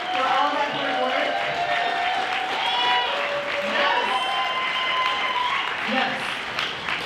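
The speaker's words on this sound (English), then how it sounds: "can we give them another round of applause?" Audience applause at an annual performance party in San Antonio, steady and moderately distant, with cheering voices and talk running over it throughout.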